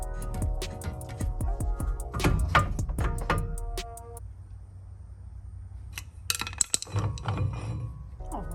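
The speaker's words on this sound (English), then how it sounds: "removing the bolts that hold the caliper on" Caliper bolts come off the brakes of a 2011 Audi A3 TDI, producing sharp metallic clinks and ratchety taps in quick bursts, then a quiet stretch and another clatter of metal.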